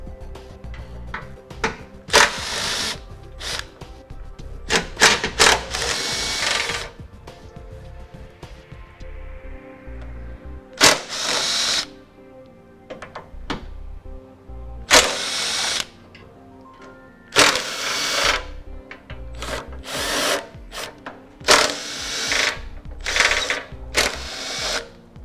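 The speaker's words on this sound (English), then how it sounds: "Then we're going to remove the 4 bolts on each side that secure the bumper" A power tool whirs through the bolts that hold the bumper to the frame on a 2013 Chevrolet, in several short, loud bursts separated by brief pauses and clanks of metal.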